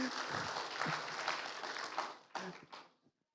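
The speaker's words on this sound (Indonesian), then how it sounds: "Iya, boleh tepuk tangan buat" A church congregation applauds during a Sunday service, a brief and fairly quiet burst of clapping with some voices mixed in that trails off into a few last claps and silence.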